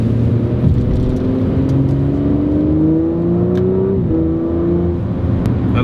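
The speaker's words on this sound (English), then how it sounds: "I love the engine, man. It's really good." Steady Audi RS5 engine revving as the car drives at speed, a continuous loud drone with rising pitch that dips briefly near the end, with no talking.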